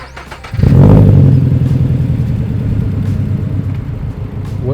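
Subaru BRZ with a JDL UEL header and front pipe firing up on a warm start, a brief starter whir before a loud burst into a deep, rumbling idle that settles slightly, heard up close from outside.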